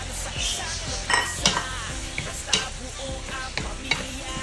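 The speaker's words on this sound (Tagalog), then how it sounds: "Ilagay ko na rin yung carrots." Carrots go into a pot of bopis manok and are stirred, with a gentle simmering sizzle under scattered scraping and knocking of a utensil against the pot.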